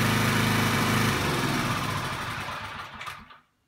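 A Clarke portable power generator for a spray machine runs loud and steady, its engine drone with a strong low hum for most of the clip, then is switched off and fades away to silence at the end.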